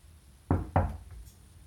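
Two close knocks on a door or wall sound in a quiet room about a quarter second apart, followed by a faint tap and the start of another knock at the end.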